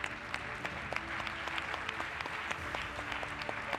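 Sustained applause from a summit audience, steady and dense with scattered sharper claps standing out, continuing without pause throughout.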